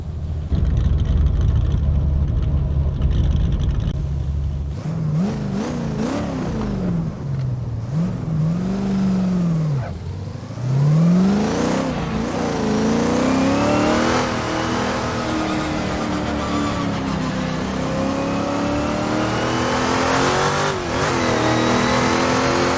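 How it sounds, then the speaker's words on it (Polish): A car engine in the Assetto Corsa racing game, played on a Thrustmaster TMX Pro wheel, sits at a low idle, then revs up and down repeatedly through rising and falling sweeps and holds a loud, high drone toward the end, with no talk. "Przez większość czasu postaram się nic nie mówić, żebyście mogli posłuchać samochodu."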